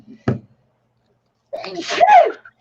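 A short sharp breath comes first, then after a pause a single loud, close sneeze bursts out with a wet, explosive release.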